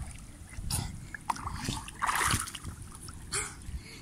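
Water splashes and sloshes around swimmers at a nautical club on Reunion Island, with a few irregular splashes and trickles close by amid soft breathing.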